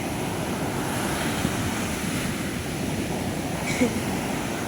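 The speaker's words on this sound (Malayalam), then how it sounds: "നല്ല കടൽക്ഷോഭം ഉണ്ട് കണ്ട" A steady, unbroken roar of rough sea waves at Vadi beach, Kollam, with wind noise, continuous throughout and no voices.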